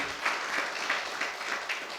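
A church congregation applauds loudly and steadily, a dense wash of many hands clapping together that swells in rhythmic pulses for a couple of seconds.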